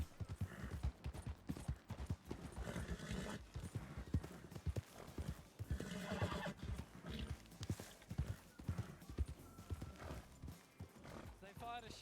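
Horse hooves clip-clop steadily through a video game ride along a road and mountain pass, with occasional whinnies and a distant gunshot, all mixed under busy game music and voices talking throughout.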